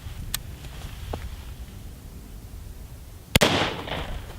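A rifle with a 25/300 meter zero fires at a 10-meter target on an outdoor range, with one sharp, loud crack followed by a brief echo, amid a few fainter pops and quiet background noise.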